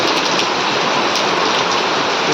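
Heavy rain pours onto a village house, a loud, dense, continuous hiss of water on the roof and ground with no voices.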